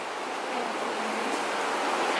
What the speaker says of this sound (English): you can just hear the waves and it's so lovely